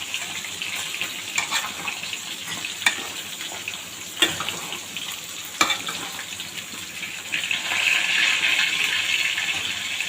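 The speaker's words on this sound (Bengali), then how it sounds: "ভেজে রাখা আলু বেগুনগুলো দিয়ে দিই। দিয়ে ভালোভাবে নেড়ে দিই।" Fried potatoes and eggplant turned in a pan for a hilsa fish curry: a low sizzle with several sharp spatula knocks, then a broader, louder hiss building toward the end.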